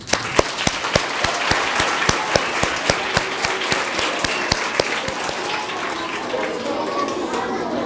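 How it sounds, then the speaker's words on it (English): An audience at a school Black History Month event claps steadily for the student singers, with sharp individual claps over a dense wash of applause that fades slightly toward the end. "Let's give a round of applause to our singers."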